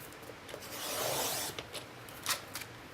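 Bazzill cream cardstock being cut to size, a close rasping scrape of paper that swells for about a second, then a few short scratchy strokes, quiet and without talk.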